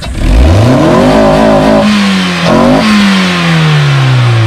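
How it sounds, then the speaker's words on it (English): A 1990s Japanese car engine revs up close, rising sharply in pitch, dipping, then revving again before settling into a lower, falling drone. "It sounds like every Japanese car ever made in the 90s."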